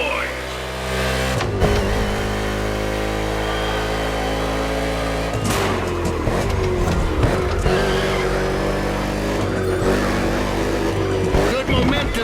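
NASCAR race cars in The Crew Motorfest racing: loud, steady engine drone with rising and falling revs and gear changes, tires squealing at moments, while a voice talks over the racing.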